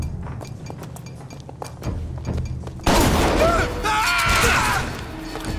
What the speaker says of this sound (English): Let's try this heater gun.